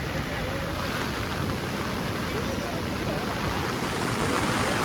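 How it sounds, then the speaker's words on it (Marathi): A flooded river surges with a steady, dense roar that fills the whole span without a break, loud and broadband like heavy rushing water or wind, with no voices over it. "वरती पाणी पण गडगडतोय."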